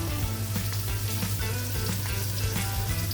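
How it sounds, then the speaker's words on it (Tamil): Eggs frying in a pan in a Sri Lankan Jaffna-style home kitchen give off a steady, dense sizzle with crackling pops, close and continuous throughout, with no talking. "முட்டையை பொறித்து முட்டை பொறிக்க போகிறேன்."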